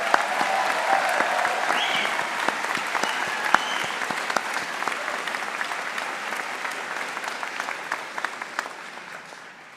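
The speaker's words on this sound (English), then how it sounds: "so let's give them a big round of applause." At a university convocation ceremony, a large audience applauds graduating business students with sustained, moderately loud clapping from many hands, steady throughout and thinning slightly toward the close.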